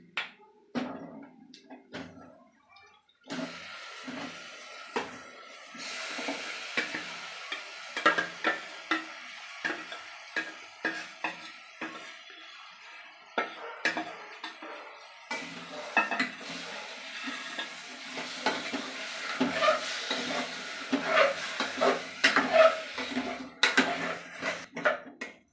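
Marinated chicken being stirred into biryani masala in a pan, a steady run of scraping, clinking spoon strokes against the metal over a soft sizzle, fairly close and with no talk.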